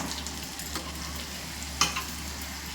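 Semolina frying in a pan, with steady close sizzling and stirring scrapes and one sharper clatter partway through; no voices.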